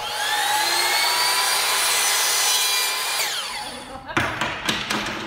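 Construction work at the Evergreen Theatre's parade entrance: a loud, steady power-tool whine like a saw runs for about three seconds, then fades into a few sharp knocks and clatters.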